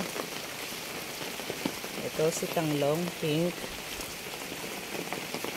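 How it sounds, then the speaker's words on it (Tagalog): Rain falling during a storm patters steadily around a garden of bougainvillea, an even wash of drops throughout with a person talking briefly over it in the middle. "Umuulan dito."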